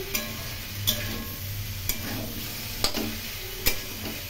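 Prawns frying in hot oil in a pan for Bengali potol chingri, a steady close sizzle with a few sharp crackles and pops spaced through it.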